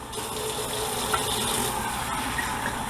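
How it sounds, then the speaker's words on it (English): Water pours steadily into a pot of rice for cooking at home, a continuous gushing stream that stays even and close for the whole stretch with no talking. "So if I put 2 cups of rice, I'm going to put 4 cups of water."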